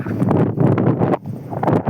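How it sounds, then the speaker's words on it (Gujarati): Heavy gusts of wind buffet the microphone, producing loud low rumbling bursts that rise and fall, briefly dropping away before returning. "પવન બહુ આવતો હશે આ વિડીયો ની અંદર"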